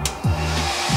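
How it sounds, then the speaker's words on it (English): A hotel room hair dryer runs with a loud, steady blowing whir up close, its motor tone dipping and rising as it is handled, with no voices. "Hair dryer and the safe box."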